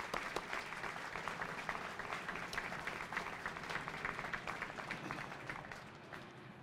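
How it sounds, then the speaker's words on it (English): A crowd at a 7th Infantry Division change of command ceremony at Joint Base Lewis-McChord gives a sustained round of applause, dense and steady throughout, easing off slightly toward the end, with no speech over it. "please join me and give a round of applause for all of our distinguished guests"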